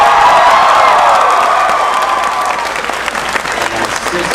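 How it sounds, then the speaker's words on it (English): A large convention panel audience claps loudly and steadily, with some cheering mixed in, the applause fading slightly toward the end. "Everybody give them a big round of applause."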